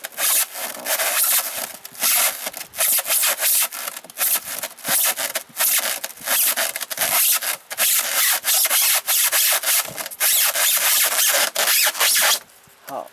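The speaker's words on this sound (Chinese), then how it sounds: "钻了2个洞，已经完成了" A hole is bored through a styrofoam box for a homemade ice-cooled fan, a harsh, loud, rhythmic rasping and scraping in rapid repeated strokes that lasts about twelve seconds, close by and with no talk.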